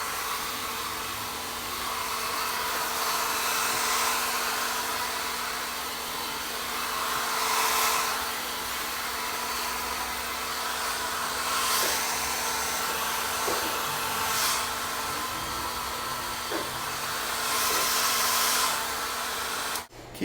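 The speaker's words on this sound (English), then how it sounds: "you're going to blow dry those roots right in the opposite direction of where they're going to sit in the end." A hair dryer blows steadily while drying hair roots in a salon-style blow-dry, a loud continuous airy whir with a constant motor hum and slight surges as it moves, close by and without talk, cutting off at the end.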